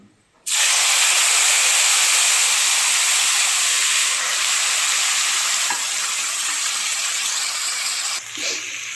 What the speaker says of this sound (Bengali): মশলা কষানো হয়ে গেছে, খুব সুন্দর একটা মশলা দিয়ে গন্ধ বেরোচ্ছে